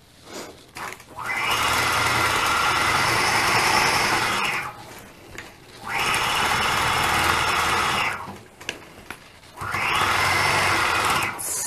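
A sewing machine runs in three sustained bursts of several seconds each, separated by short pauses, while quilting stitches are sewn along ruler-guided lines. The motor hum is steady, close and loud, with no talk.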